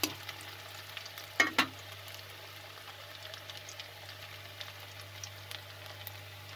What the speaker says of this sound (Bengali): দেখো পেঁয়াজটা ভাজা হয়ে এসেছে